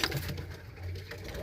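A yellow pigeon coos softly in a low, murmuring tone, with a couple of gentle throaty phrases in a quiet indoor loft.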